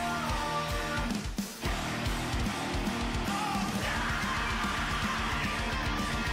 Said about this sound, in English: He can really scream.